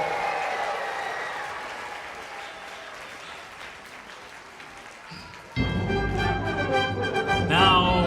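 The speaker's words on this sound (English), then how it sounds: "the piccolo, and the crowd goes wild." Loud crowd applause and cheering erupt suddenly partway through, following a quieter musical stretch, at a mock sporting contest between orchestra instruments; the clapping stays dense and sustained to the end.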